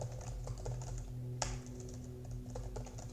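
Keys clatter quickly on a computer keyboard, a quiet close run of light clicks with one sharper tap midway.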